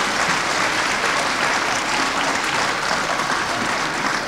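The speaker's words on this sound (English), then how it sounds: "Give them another big round of applause," A large audience at a Chinese New Year event claps steadily and loudly, a dense, even wash of applause with no pauses.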